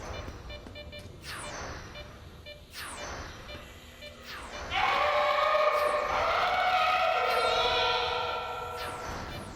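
Teleport whoosh in the game S.T.A.L.K.E.R.: Lost Alpha, a series of sweeping descending swooshes repeating every second or two, followed by a loud sustained shimmering, ringing hum that swells midway and lingers before slowly fading.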